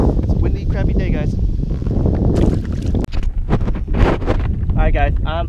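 Heavy wind buffets the microphone with loud, rumbling gusts while crappie fishing from a kayak in South New Jersey, mixed with splashing and a voice talking intermittently.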